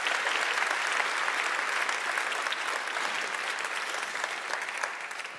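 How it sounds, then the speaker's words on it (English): Steady, dense clapping from a university audience at a sustainability day opening event, holding loud and even before easing slightly toward the end, with no voices over it. "Big applause to you."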